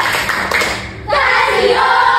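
A group claps in appreciation after a class presentation, loud and close. The clapping swells in partway through and continues as a steady, dense patter to the end.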